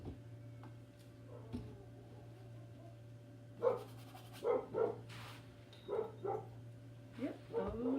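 Several dogs bark in separate bursts across the second half, moderately close, over a steady low hum and faint room ticking, with no voices.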